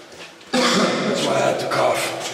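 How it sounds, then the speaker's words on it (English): A person coughs inside a tunnel of a nuclear bunker in Croatia, a sudden loud burst followed by a rough, lingering cough with reverberant room tone. "That's why I had to cough."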